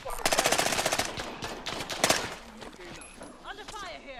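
Rapid machine-gun bursts in an online shooter video game, loud close rattling volleys followed by scattered single shots, with players talking over the fire.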